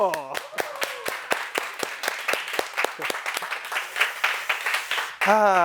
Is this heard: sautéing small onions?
no